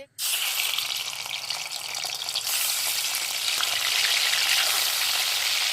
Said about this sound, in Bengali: মাছগুলো প্রথমে ভেজে নেবো